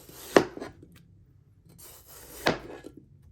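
A knife trims the side of a watermelon cake built from fresh fruit, two short scraping, rubbing cuts a couple of seconds apart, close and fairly quiet with soft silence between them.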